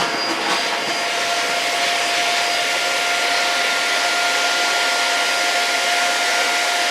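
A eufy HomeVac S11 Lite handheld vacuum cleaner runs at max suction, a steady loud whirring drone with a thin high whine, close and continuous with no talk.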